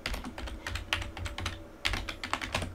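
Someone types a password on a computer keyboard during a Linux software install, bursts of close, crisp key clicks in quick uneven clusters with short pauses between.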